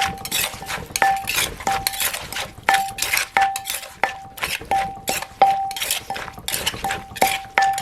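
Repeated clinking knocks of pounding apple snail meat in a mortar for a spicy salad, roughly one or two per second, each with a short metallic ring, fairly close.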